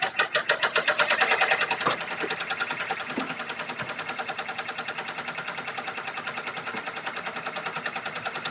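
Rapid mechanical chatter of an embroidery machine stitching a towel, loud pulsing bursts for the first two seconds, then a faster, steadier rattle running close and alone.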